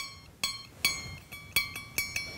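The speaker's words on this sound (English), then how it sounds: "Ping it with your finger." A thin, tensioned piercing saw blade in its frame is plucked by finger several times, each pluck giving a bright, high ping that rings briefly and fades.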